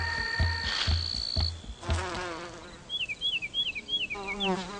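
Solitary bees buzzing come and go in short whining bursts, close by, mixed with other tonal sounds and a few soft knocks early on.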